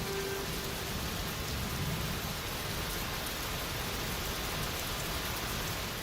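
Heavy tropical rain pours over a Mekong forest in the wet season, a dense, steady hiss of countless drops hitting leaves and ground, constant and enveloping with no voices.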